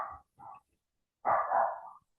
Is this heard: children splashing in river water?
no